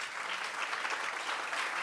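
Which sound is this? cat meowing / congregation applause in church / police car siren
congregation applause in church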